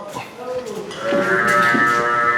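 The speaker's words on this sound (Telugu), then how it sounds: "ఇవన్నీ గేదెలు" A Bunny-breed buffalo at a Shamshabad livestock market lets out one long, close, loud moo after a second of low market noise.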